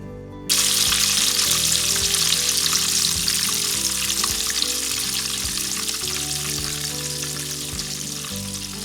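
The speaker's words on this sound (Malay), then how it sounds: "Goreng sekejap sahaja dan masukkan paste rempah kari." Curry spice paste with cloves, cardamom and cinnamon hitting hot oil: a sudden loud sizzle that settles into steady crackling frying, with faint background music and no talk.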